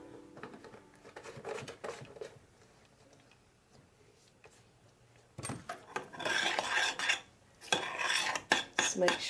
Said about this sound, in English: just make sure it's stirred and blended really well